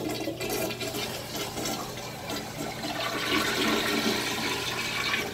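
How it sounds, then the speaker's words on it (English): An American Standard toilet in a resort hotel room in Daytona Beach flushes, a loud, close rush of water that swells and churns for several seconds, with no talking. "Let's go flush it."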